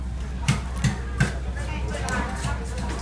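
Shrimp being cut with a knife or scissors before boiling, three crisp chops near the start, then softer irregular taps under a steady low hum, no talking.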